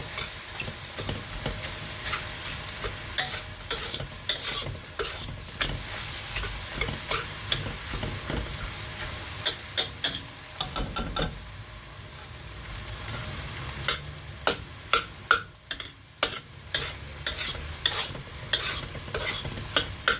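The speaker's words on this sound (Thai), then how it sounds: "ผักกุ้งให้กับไข่ให้สุกก่อนนะคะ" Shrimp and egg stir-fried in a sizzling pan, a steady frying hiss broken by frequent clacking spatula strikes and scrapes that come in uneven bursts, close up with no talking.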